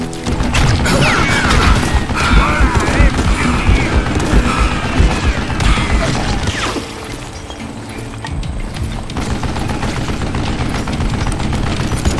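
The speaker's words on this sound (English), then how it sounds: "Oh, gotta reload." Revolver reload in Call of Juarez: Gunslinger, a busy game mix of metallic mechanism clicks and ratcheting under continuous loud gunfire and crashing effects, with no clear gaps between the sounds.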